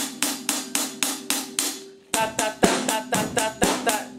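A flat, evenly spaced drum beat hitting steadily on every count, loud and mechanical, with a brief gap midway before the same plodding pattern resumes.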